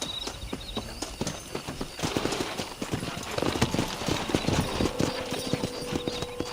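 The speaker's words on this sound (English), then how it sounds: "there's a pack of wild horses nearby." Wild horses gallop in Red Dead Redemption, their hooves drumming in a fast, close, continuous clatter, with an occasional whinny and faint game sounds underneath.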